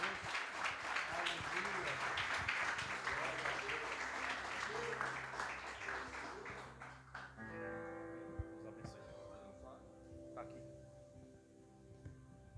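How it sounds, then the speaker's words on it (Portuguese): Church congregation applauding during an evening evangelical service, a dense round of clapping that fades after several seconds as music and voices come forward. "pode aplaudir e glorificar o nome de Deus"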